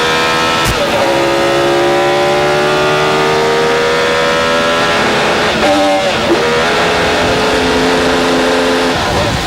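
An Indy car engine screams at high revs during a 1999 race, its pitch climbing steadily, then briefly breaks up and drops mid-run on a missed gear shift before winding back up, loud and close.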